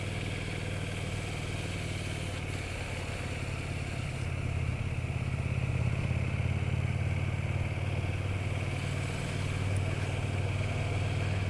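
A 2020 KTM 1290 Super Duke GT motorcycle engine runs steadily at low revs in second gear, a continuous throaty rumble that swells slightly partway through, with no voices.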